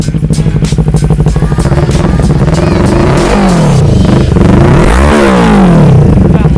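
A 2021 Kawasaki Ninja 400 engine revs up and down between roughly 2,000 and 4,000 rpm, loud and close, with rising and falling sweeps over a steady idle rumble.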